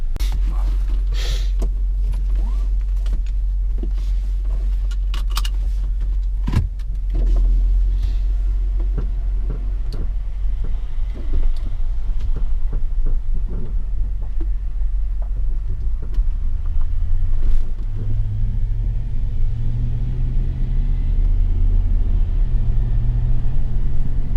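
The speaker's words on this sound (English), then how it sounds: "let's take this car for a drive" A Range Rover Sport with newly replaced sway bar bushings drives along, its engine and road rumble steady and low from inside the cabin, with occasional knocks and a slight rise in engine tone later on.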